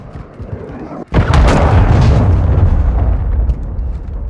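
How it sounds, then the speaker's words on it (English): A cruise missile strike in the video game Call of Duty: Modern Warfare lands with a sudden loud boom after a quieter lead-in, followed by a long rumbling roar that slowly fades. "Hostile cruise missile incoming!"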